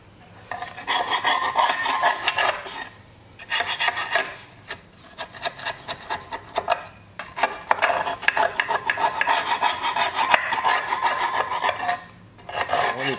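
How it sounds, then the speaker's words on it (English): Scotch-Brite pad scrubbing a metal engine oil pickup tube, loud close rasping in long sustained bursts separated by brief pauses, with no talking. "Let me clean up this pickup tube. I got a Scotch-Brite here."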